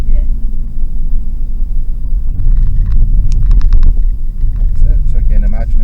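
A car engine running steadily in second gear, a loud low rumble that continues through the whole stretch, with a person talking over it.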